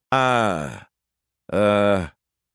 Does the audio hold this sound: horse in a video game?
no